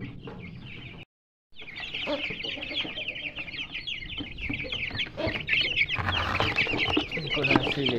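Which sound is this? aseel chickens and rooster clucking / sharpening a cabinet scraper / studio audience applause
aseel chickens and rooster clucking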